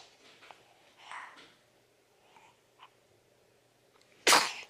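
A single sharp sneeze from a baby at home rings out near the end, loud against a quiet room with faint soft sounds before it.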